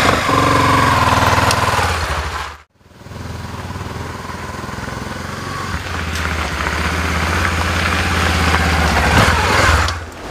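A loud motorcycle engine runs steadily up close, briefly cutting out before rumbling again for the rest of the clip.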